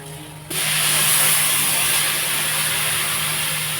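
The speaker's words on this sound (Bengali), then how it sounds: "ভাজা হয়ে গেছে, এবার পরিমাণ মতো জল দিয়ে দেবো।" Water poured into a hot pan of frying lentils (dal) sets off a sudden loud hiss of steam and sizzling that holds steady and close after a quiet start.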